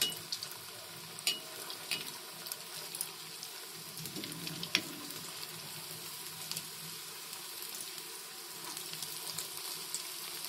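Paneer and potato koftas frying in oil, dropped in one at a time, give a quiet continuous sizzle with scattered small pops and a few clinks throughout.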